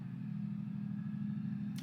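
Cars on a residential through street leave a continuous low engine rumble in the background, quiet and steady with no single pass standing out.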